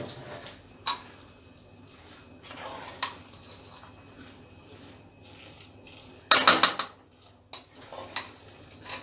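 Quinoa, lentil and brown rice pulao being mixed in a pot, with soft scraping stirs and several sharp utensil clinks against the pot, including a louder clattering burst near the end.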